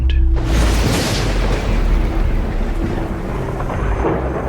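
Thunder from an electrical storm in the survival video game Icarus, a loud crack at the start rolling into a long, heavy rumble that slowly fades, with rain-like hiss behind it.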